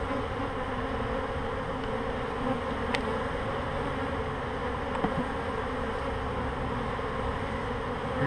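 A dense, steady hum of a swarm of bees buzzing together, soft and continuous, with no voices.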